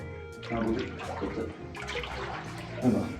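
Water flows and gurgles inside a rock cave spring at Muniyara near Elaveezhapoonchira, a close, continuous splashing rush. Voices can be heard faintly underneath.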